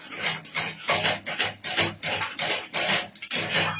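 Rhythmic scraping and rubbing of a spatula through thickening kheer in a pan on a slow flame, steady repeated strokes close by, with no talk.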